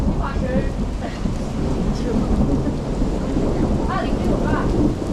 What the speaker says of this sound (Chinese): 还打雷吗？ 打雷啊！